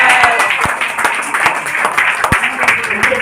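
Audience clapping at a meeting to welcome first-time newcomers, a dense round of applause with sharp individual claps standing out near the mic, and voices murmuring underneath.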